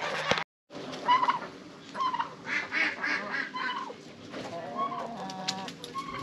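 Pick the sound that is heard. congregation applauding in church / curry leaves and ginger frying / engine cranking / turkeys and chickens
turkeys and chickens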